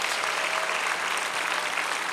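A congregation at the Yongsan peace-unification church rally claps in a thick, continuous wave, loud and even for about two seconds with no talking on top.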